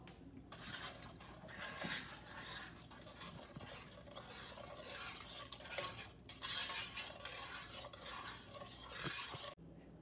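Pie filling mixture being stirred in a pot on the stove as milk heats, with continuous scraping and clinking of a utensil against cookware, steady and close throughout with no talking.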